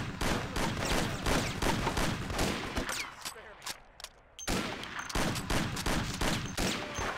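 Rifle fire and gunfights crackle in the Mafia video game, with dense bursts of shots, a short lull, then more rapid volleys, loud and close throughout.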